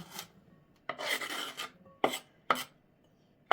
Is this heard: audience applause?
no